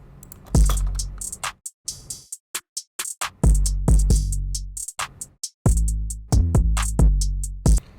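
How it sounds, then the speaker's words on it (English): A punchy programmed drum beat with heavy kicks, snappy snares and crisp hi-hats in a steady hip-hop groove, no other instruments. "So this is just the drums."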